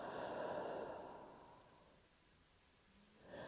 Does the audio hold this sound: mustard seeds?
no